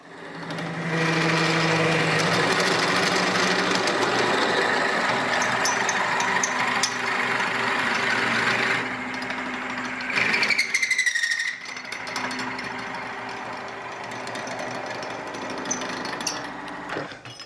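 A drill boring a hole in spalted beech: a loud, continuous mechanical whirring and grinding runs for most of the clip, pausing briefly near the middle before resuming more quietly.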